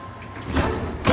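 Doors on a Montgomery Vector hydraulic elevator at Westroads Mall in Omaha slide along with a rising rumbling whoosh, ending in a soft thud as they settle, recorded up close.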